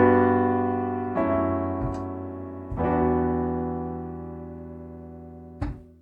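Piano and guitar play three sustained chords, each struck cleanly and left to ring before the next, close and unaccompanied by voices.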